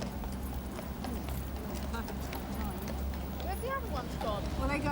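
Horse Guards horses walking in London, hooves clip-clopping in a steady rhythm on pavement at moderate distance, with people talking over them.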